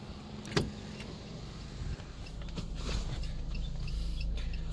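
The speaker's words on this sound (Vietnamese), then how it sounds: "Máy đang lổ đây nhá, máy đang lổ đây ạ. Các bác nghe nào cũng êm ạ." An automatic car, priced at 186 million dong, idles smoothly with a low, steady engine hum close by, with a faint click near the start and light handling noises over the even drone.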